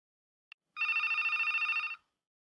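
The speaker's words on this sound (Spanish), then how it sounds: "Su teléfono sonó por cuarta vez." A telephone bell rings once as a sound effect in a Spanish-language audio drama, a single sustained electronic trill lasting just over a second after a brief click, clean and isolated against silence.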